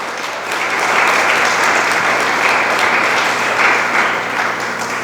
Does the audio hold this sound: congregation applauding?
yes